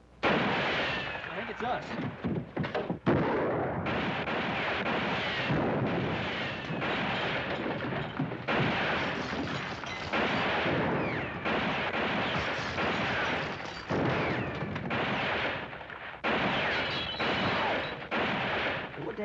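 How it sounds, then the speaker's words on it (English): Gunshots ring out in a Western drama scene, with repeated sharp cracks in a dense, continuous barrage and people talking over the firing. "Somebody's shooting at somebody."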